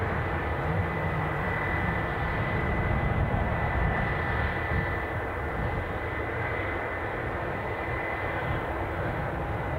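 An EasyJet Airbus A319 departing Edinburgh Airport for Geneva produces a steady, distant engine roar that holds evenly throughout, a continuous wash of jet noise with no voices.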